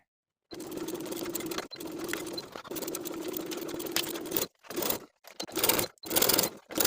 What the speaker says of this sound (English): Now we can sew everything together as pinned with a 1/2 inch seam allowance